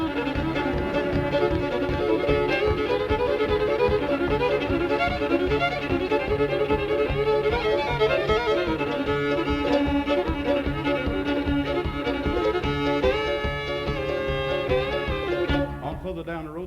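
Fiddle imitating a hound dog yelping after being hit in the rear while running through woods, played at a 1963 folk festival workshop; dense continuous bowed playing with rising and falling slides, loud and steady throughout, no talking.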